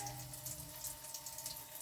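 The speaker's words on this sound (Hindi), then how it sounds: "मैं देखिए इसको डीप फ्राई कर रही हूँ।" Raw banana koftas deep fry in hot oil, giving a quiet, continuous bubbling hiss with fine crackles throughout.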